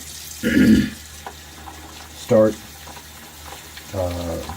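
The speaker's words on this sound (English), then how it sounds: "So then I will turn on the water" Tap water runs in short bursts into a shaving bowl, with a soft splashing rush starting and stopping three times, close and fairly loud, separated by quiet gaps.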